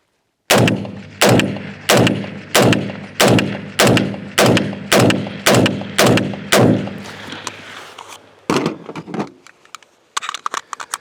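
Bear Creek Arsenal AR-15 rifle firing at a steel target outdoors: about thirteen loud, evenly spaced shots at a steady semi-auto pace, each with a sharp crack and ringing decay, followed by a few scattered rustles and clinks.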